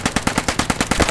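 Loud, rapid machine-gun fire hammers out about ten evenly spaced shots in just over a second during a video game firefight, close and with no voices over it.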